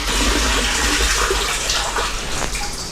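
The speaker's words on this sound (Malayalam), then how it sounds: "ഇപ്പോൾ അടിയിൽ സ്വിച്ച് ഓണാക്കി അപ്പോൾ വെള്ളം വീണ് തുടങ്ങി" Water gushes into a storage tank after the pump motor is switched on by a water level controller, a loud, continuous rushing pour that fills the whole stretch.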